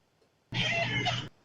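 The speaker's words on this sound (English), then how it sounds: "You trying to kill that cat?" A cat gives one drawn-out meow of about a second, fairly loud and clear against an otherwise quiet background.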